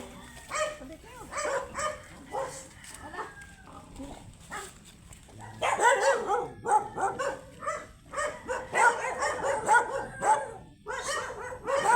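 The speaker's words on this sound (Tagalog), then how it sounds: "Dami dito aso. Kala ko sa amin lang maraming aso dito din pala." Several dogs bark repeatedly in Batangas, some near and some farther off, with overlapping yips and voices talking in the background.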